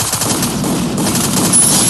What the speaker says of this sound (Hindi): आंस भाई क्या हेडशॉट मार रहा है भाई